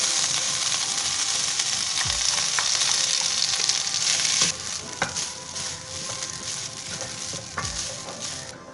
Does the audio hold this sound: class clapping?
no